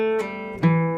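A short electric guitar lick: one sustained note, then a quick pull-off sliding down to a lower ringing note, played slowly and clearly.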